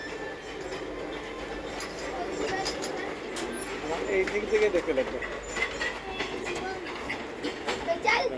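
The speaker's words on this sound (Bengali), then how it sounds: "ট্রেনটা চলে গেলো" A train moving past a station platform in Bihar, a continuous rumble with rhythmic wheel clatter and metallic squeals growing louder toward the end, while a person talks over it.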